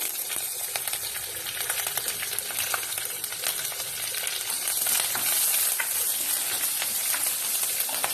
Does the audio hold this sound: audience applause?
no